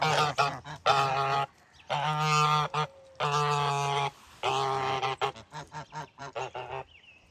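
Geese, including tufted ones with their goslings, give loud, close honks in repeated harsh calls, some long and drawn out, others quick and overlapping, with no talking.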